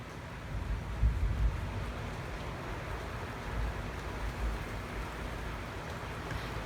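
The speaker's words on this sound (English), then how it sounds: "Oh, here comes the rain." Steady rain falls outdoors on a home lawn, a broad continuous hiss and patter that stays fairly loud and even throughout, with no voices.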